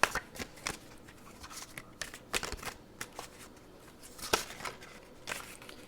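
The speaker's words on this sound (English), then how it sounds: "Cards were shuffled prior to hitting record, but of course I do like to do some on camera." Tarot cards shuffled close by, with quick papery riffles and soft slaps coming in irregular bursts, alone with no talking.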